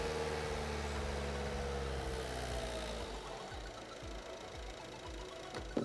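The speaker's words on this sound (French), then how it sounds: "On remet le véhicule au ralenti." A diesel vehicle's engine idles after its particulate filter has been rinsed, giving a low, steady, fairly quiet running hum that softens slightly toward the end, with no talking.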